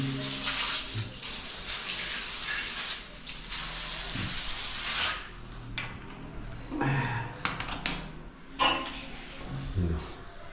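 Strong shower spray hisses loudly for about five seconds, then the water continues more softly while someone moves about and splashes nearby.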